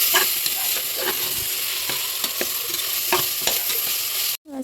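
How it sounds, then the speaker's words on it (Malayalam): Onion and spices sizzle steadily in a frying pan while a spoon stirs and scrapes in repeated strokes, close and fairly loud, cutting off abruptly near the end. "ഒരു 1 മിനിറ്റ് വരെയൊക്കെ നമുക്ക് നന്നായിട്ട് ഇളക്കാം"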